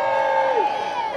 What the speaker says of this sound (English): Round of applause for Zoe.